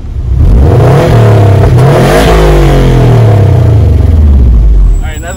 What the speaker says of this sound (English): I will start the car for you guys and let you know how this exhaust sounds